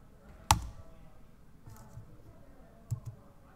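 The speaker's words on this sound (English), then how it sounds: "all I have to do is hit enter or return on my keyboard" A single sharp click of the Enter key on a computer keyboard lands near the start, followed later by a second softer tap, both close and crisp against a quiet room.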